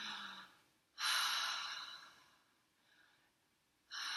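Slow, audible breaths in and out through the mouth, two long airy exhalations and a fainter one between, repeating in a calm rhythm with no talking.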